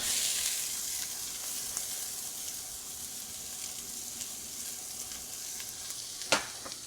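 Onions hit shimmering extra virgin olive oil in a pan for fresh tomato spaghetti sauce, giving a soft, steady sizzle with faint scraping and one sharper knock near the end.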